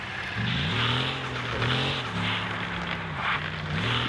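Car engine in a racing video game revving through repeated gear shifts as it pulls away onto a wide highway, a loud steady drone with rising and falling pitch steps.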